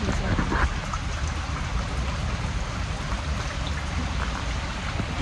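Heavy rain pouring down outdoors, a loud, dense, continuous roar of drops on surfaces filling the whole stretch without pause.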